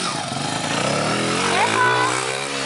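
A motorcycle engine drones loudly and steadily, close by and never letting up, rising slightly in pitch partway through as if revved, with a brief higher whine near the end.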